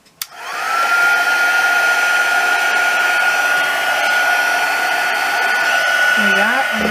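A heat tool melting embossing powder for card stamping, a steady loud blowing whine switching on and running continuously close by.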